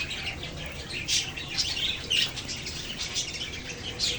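Pet parakeets chirping in a cage, a steady run of short, fairly faint tweets and calls over a broad hiss of background noise, with no talking.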